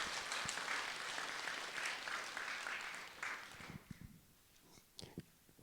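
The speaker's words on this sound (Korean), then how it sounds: "박수." A burst of clapping from a small group in a Buddhist temple dharma hall fills the first few seconds, then thins out into a few scattered claps and quiet rustling.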